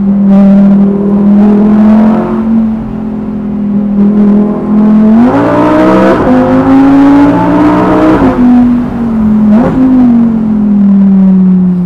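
A car cruising on the road in Switzerland, its engine a loud, steady drone from inside the cabin, with revs climbing twice as it accelerates, then easing back down.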